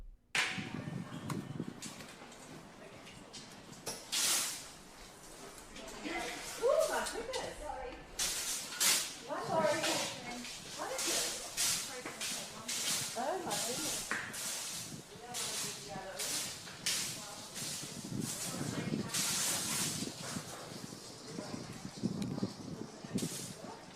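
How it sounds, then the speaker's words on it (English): Orange spray paint hisses from cans as protesters spray it across glass inside an airport, with long bursts of spraying repeating over steady background noise and some talk. "spray orange paint all over the glass in the airport"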